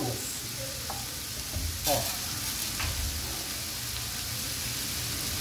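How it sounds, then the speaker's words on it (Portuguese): Rice frying in a single pot, a steady broadband sizzle with a few scraping stirs and a brief louder burst near the middle, while a voice briefly exclaims. "Pessoal, agora nós vamos colocar o arroz."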